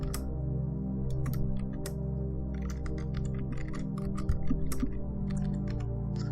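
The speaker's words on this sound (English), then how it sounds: "I'm not watching what I'm typing" Scattered clicks of typing on a computer keyboard, short irregular bursts of keystrokes over a steady low hum from a PC game.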